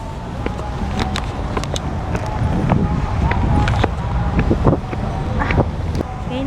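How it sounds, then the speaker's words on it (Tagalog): Gusty wind buffets a microphone outdoors near a post office, a steady rough rumble with rising gusts throughout, with a few scattered knocks and clicks in the background. "mahangin eh"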